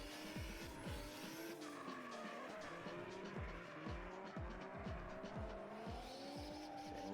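A Toyota JZX100 driving and skidding, with repeated tire squeals sweeping in pitch over a continuous engine drone, distant and faint, in several successive slides.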